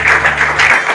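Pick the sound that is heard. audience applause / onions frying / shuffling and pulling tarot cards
audience applause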